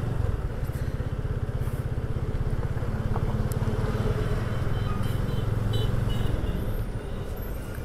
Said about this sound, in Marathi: इथे जाम ट्रॅफिक लागलेली आहे